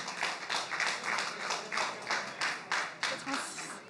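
A festival audience claps in a rhythmic wave to vote for a meme, the beats steady and fairly close, with crowd voices mixed in.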